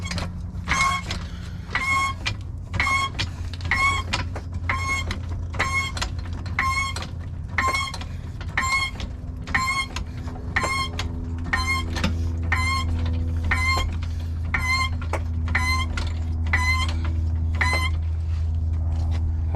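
A 3-ton floor jack raising a car, a steady series of about twenty evenly spaced metallic clicks or pumping strokes repeating roughly once per second over a low continuous motor-like hum, close and moderately loud, with no talking.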